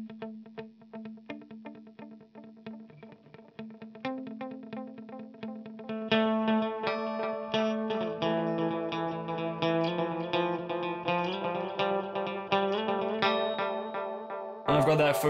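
An electric guitar runs through a delay pedal preset modelled on the Roland Space Echo for shoegaze and dream pop, notes repeating in dotted-eighth echoes. It starts sparse and quiet, then swells into a dense, loud, reverberant wash.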